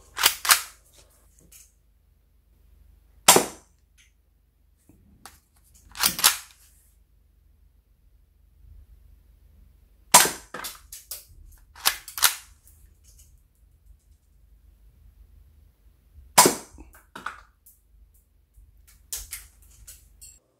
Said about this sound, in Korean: 안전장치를 내려서 발사 위치에 놓고 당기면 격발됩니다. 자, 그러면 발사해보죠.